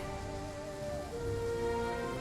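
Steady rain falls across a battlefield in the strategy game Total War: Three Kingdoms, a soft continuous hiss with faint tonal music underneath, no talk.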